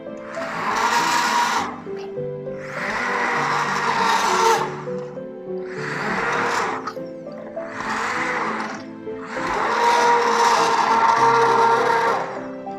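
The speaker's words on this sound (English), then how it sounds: "So I'm gonna use the stick blender and just stick the blender and roughly chop it." A stick blender roughly chops tomato and kimchi soup in five loud whirring bursts of a few seconds each, with brief pauses between them and no talk.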